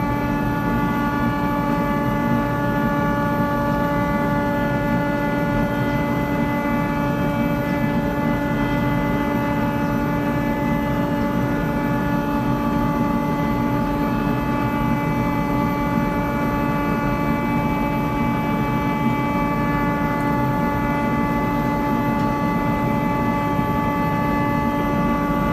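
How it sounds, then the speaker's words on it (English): A flue-curing tobacco dryer's burner runs with a steady, unbroken drone and constant tonal hum, unchanging in loudness throughout with no voices. "Here you can see the flames growing higher as it's lifting the temperature inside the dryer."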